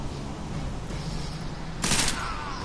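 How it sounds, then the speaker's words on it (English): Gunfire in the video game Deus Ex, a faint, steady burst of shots under a noisy background, with one sharper, louder blast near the end. "That gunfire."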